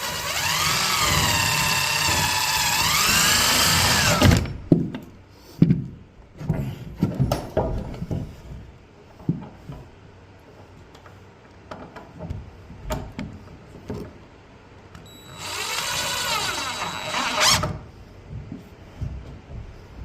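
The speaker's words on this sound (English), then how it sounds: "I'm going to use the screw gun to bring them all in first" Bursts of a power screw gun whirring and driving screws into 2x4s during a wall build, starting and stopping between scattered knocks and handling noises, close by.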